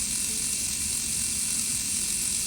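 A slow-speed dental handpiece running at 10,000 RPM for coronal polishing gives a steady, continuous high-pitched whine and hiss, unbroken and even in loudness throughout, with no voices.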